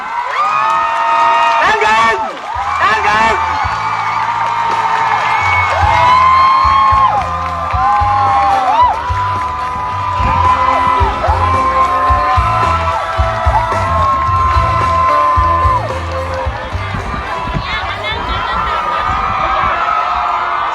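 Outdoor political rally crowd in front of Nakhon Ratchasima provincial hall cheering, whooping and clapping to welcome a Move Forward MP, a steady dense roar with shouts throughout, music and amplified talk layered over it.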